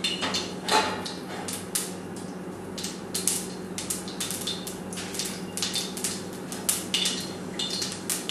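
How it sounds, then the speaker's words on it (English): Mustard seeds crackling in hot oil in a pan for rava upma, a fast irregular run of sharp pops and snaps, fairly loud and close, with no talking. "this is actually started cracking inside the oil"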